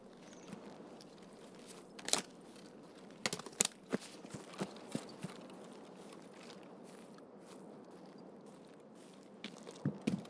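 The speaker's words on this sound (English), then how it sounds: "Might be hearing my own footsteps" Footsteps crunch in a video game, a scattered series of soft, sharp steps and scrapes over a quiet background, close and unhurried, with no talk.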